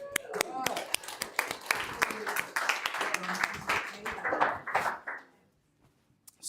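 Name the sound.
audience round of applause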